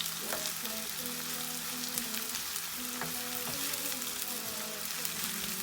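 Onions frying in a pan for a Bengali patwa bhuna of loitka shutki with eggs, a steady close crackling sizzle with soft stirring scrapes, no talk.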